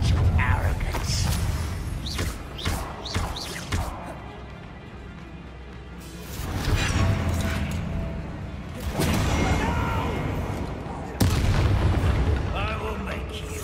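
Confringo fire-blast spells exploding in Hogwarts Legacy on PlayStation, a series of loud booming blasts and crashing impacts spread across a duel, with voices speaking between them.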